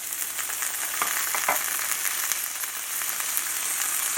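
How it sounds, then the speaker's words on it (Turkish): Chopped onions fry in a pan, giving a steady close sizzle and crackle with a few soft stirring knocks, continuous and without talk. "soğanımı da koydum kavruluyor"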